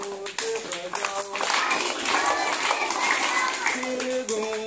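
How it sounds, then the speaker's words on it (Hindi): Children in a classroom activity clap their hands loudly together in a fast, dense burst lasting a few seconds. Sung or chanted voices come before and after the clapping. "ताली जोर से बजाओ"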